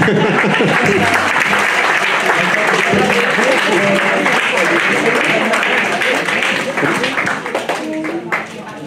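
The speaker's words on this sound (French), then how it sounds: "vous pouvez applaudir" Loud, close applause from an audience at a silver Gaillarde award presentation, a thick sustained clatter of many hands that thins into scattered claps toward the end, with voices murmuring underneath.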